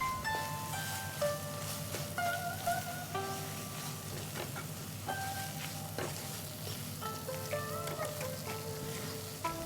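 Thai red curry paste with salt and sugar sautéing on a medium flame, a steady close sizzle and frying crackle with soft clinks and scrapes of stirring throughout, no talk.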